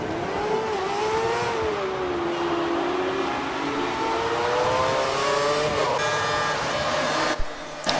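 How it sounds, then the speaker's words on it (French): Onboard a Red Bull racing car during the race start in Canada, a loud engine whines and climbs through the gears, with other cars close around it. A faint commentary voice sits under the engine noise. "La séquence de départ avec Maxi à bord de la Red Bull."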